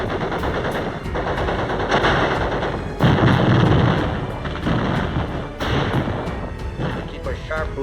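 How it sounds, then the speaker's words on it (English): A World War II mortar barrage and machine-gun fire at the 1945 battle of Iwo Jima: dense, rattling bursts of gunfire mixed with heavy thumping blasts, loud and continuous throughout. "A mortar barrage searches out hidden machine gun nests."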